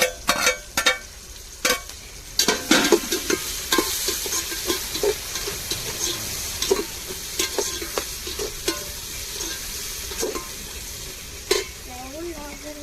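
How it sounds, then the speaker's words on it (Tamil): Tomatoes and chillies sautéing in a pan for glass-fish (kannadi parai) biryani: a steady frying sizzle with frequent sharp clacks and scrapes of a stirring spoon against the pan, close up and with no talking. "தக்காளி நல்லா வதங்கட்டு"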